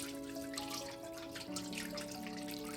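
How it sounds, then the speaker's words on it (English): Carrot and beetroot juice running through a strainer, heard as a steady, quiet liquid trickle and patter that carries on evenly throughout, with a faint tonal hum beneath. "So now I'm going to run it through my strainer one more time"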